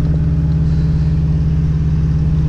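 A 270 hp Subaru car cruising slowly at about 30 km/h, its engine giving a steady, loud low hum with even road rumble and no revving or pauses.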